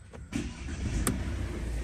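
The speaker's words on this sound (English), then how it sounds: "Then start the car again." A Mercedes car engine cranks briefly and catches, settling into a steady close idle rumble, no voices.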